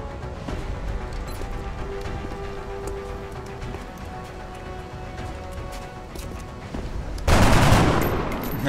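Gunfire in the turn-based tactics game XCOM: Enemy Unknown, a dense crackling rattle of shots throughout that swells into a louder, sharper burst near the end, with no talking.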